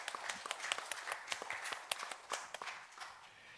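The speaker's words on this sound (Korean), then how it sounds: "하나님께 영광의 박수를 드리겠습니다" Church congregation applauding after a sermon prayer, a spread of light, uneven claps rising and thinning over a few seconds, moderately distant in a reverberant hall with no talk.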